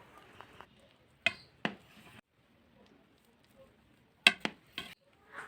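A knife cuts into a soft steamed malai cake and taps against a plate or pan, producing a few sharp clinks and scrapes, paired near the start and clustered near the end, with faint quiet handling noises between them.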